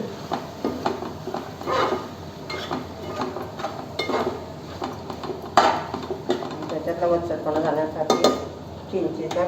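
A pot of squid curry with dried coconut and garam masala is stirred by a spoon that clinks and scrapes against the metal in uneven bursts, with someone talking over it.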